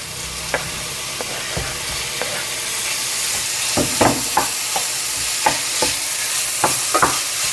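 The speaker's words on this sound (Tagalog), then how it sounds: "pwede na natin isunod itong unmeat na burger patty na ginawa kong parang ginili." Plant-based UnMeat burger patty, crumbled like ground meat, fries in an oily pan with a loud, steady sizzle. Repeated spatula scrapes and stirs cut through at irregular intervals, with no speech.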